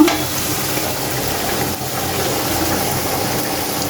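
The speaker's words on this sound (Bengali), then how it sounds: "এদিক দিয়ে চিংড়ি মাছের জন্য পেঁয়াজ বসাই দিচ্ছি ঝোল করার জন্য" Onions frying in a pan as the base for a prawn curry, a dense, steady sizzle that runs unbroken and fairly loud throughout.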